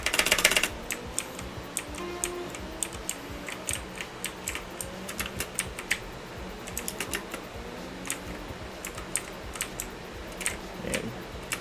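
Rapid computer keyboard typing runs throughout, with dense irregular clicks and a few louder bursts, heard over a quiet background hum.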